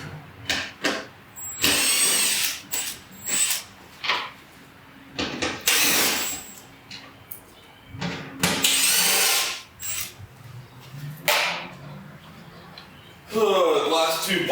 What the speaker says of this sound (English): Impact drivers are great for removing things, maybe not always the best for installation